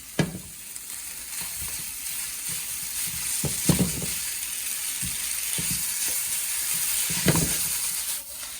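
Chicken chow mein stir-frying in a hot pan, a steady loud sizzle with rhythmic scraping and tossing strokes of the spatula, close and continuous with no talk.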